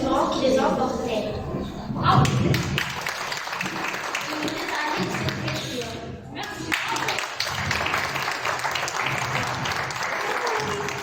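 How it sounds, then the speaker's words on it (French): Sustained audience applause from a crowd of many hands, loud and continuous throughout, with a brief swell early on and steady clapping to the end. "Applaudissez"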